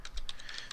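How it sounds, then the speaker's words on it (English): Quick, close keystrokes on a computer keyboard as an FTP address is typed, a rapid run of about seven light clicks over a faint low rumble. "Up here in the address bar,"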